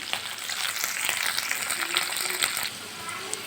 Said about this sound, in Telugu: కొద్దిగా కరివేపాకు ఆనియన్స్ పచ్చిమిర్చి ఇలా వేసి కొద్దిగా మగ్గించుకోవాలి